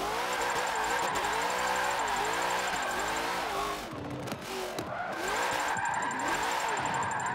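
A Ford race car engine in the racing game Forza 7, from a matchup between NASCAR and V8 Supercar Fords, revs hard and loud through repeated gear shifts, with a brief lift mid-run and some tyre skid noise.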